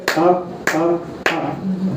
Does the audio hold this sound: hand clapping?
yes